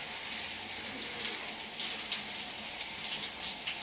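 Warm running water streams steadily over hair during a rinse on wash day, a continuous close hiss with small splashy fluctuations throughout and no talking.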